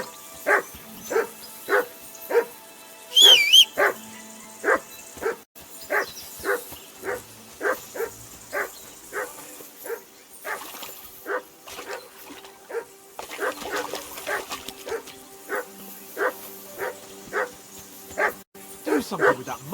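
A dog barks in the video game Kingdom Come Deliverance II, a long run of evenly spaced single barks at moderate distance, with ambient game noise and brief other sounds mixed in along the way.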